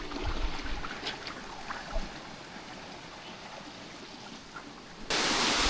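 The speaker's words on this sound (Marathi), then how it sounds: "या साईडला मस्त पाणी वाहतं आहे बघा ना" Water rushes past a small dam on a river during the rainy season, a steady broadband roar heard outdoors, with a sudden louder surge of noise near the end.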